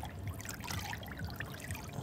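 Boiling water pours into a 5 gallon container of cold fresh water, a faint, steady trickling stream with no voices.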